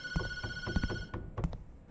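A telephone rings in the horror video game Tattletail: a loud, steady electronic trill with strong harmonics that holds for about a second and then cuts off, leaving dull thuds and clatter.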